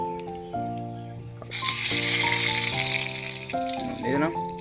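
Black cumin seeds hit hot oil and burst into a loud, sustained sizzle that starts abruptly partway through and then tapers, with tonal background music playing underneath.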